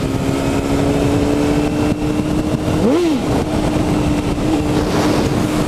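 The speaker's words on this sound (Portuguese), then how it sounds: "Dá vontade de você ficar acelerando o tempo todinho, velho." A red Honda CBR 600RR motorcycle engine revving hard, a loud close continuous roar whose pitch climbs and drops sharply near the middle before settling back into a steady drone.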